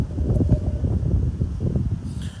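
Wind buffets an outdoor microphone, producing a low, uneven rumbling roar that swells and dips continuously for a couple of seconds, close and fairly loud.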